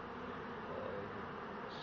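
A swarm of honeybees streams into a hive, a dense, continuous buzzing hum heard close and fairly quiet, holding steady throughout.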